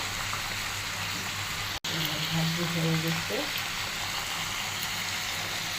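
Catla fish head frying in a pan before cooking with mung dal, a steady broadband hiss of hot oil throughout, with a brief tonal scrape partway through.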